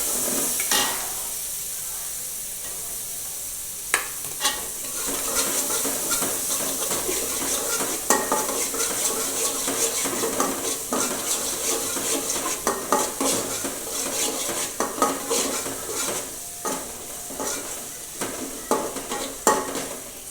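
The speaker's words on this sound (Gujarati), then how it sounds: "અને થોડી વઘાર માટે એવી આપણે ડુંગળી નાખીશું. હવે આપણે તેને બરાબર સાંતળી લઈશું." Onions sizzle steadily in a hot pan, a constant hiss broken by the scrape and clink of a spoon stirring.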